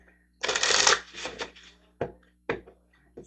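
Tarot moon cards being shuffled by hand at close range: one long papery riffle, then several shorter shuffling bursts separated by brief pauses, with no talking.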